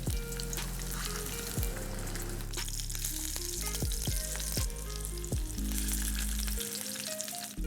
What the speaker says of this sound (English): Now we'll add meatballs. And you should hear the searing sound.